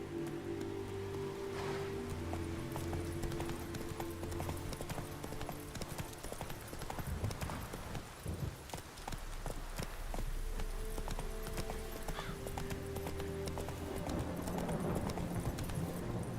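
Geralt's horse Roach trotting in The Witcher 3, hooves clip-clopping in a steady, continuous rhythm throughout, with soft rain-like patter and tonal background sounds underneath.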